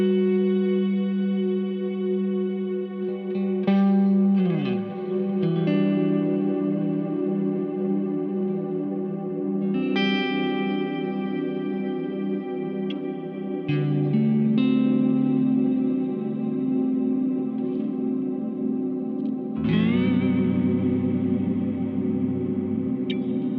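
Guitar sustained through a Crazy Tube Circuits Mirage reverb pedal at endless reverb setting: chords ring into a dense, never-decaying wash, with new notes and pitch swoops layering over the lingering tail, no talking.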